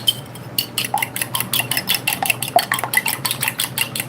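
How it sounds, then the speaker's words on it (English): Eggs being whisked in a bowl for baking, a rapid, steady run of close metallic clinks and scrapes against the bowl repeating for several seconds, with no talking over it. "Gonna whisk the eggs."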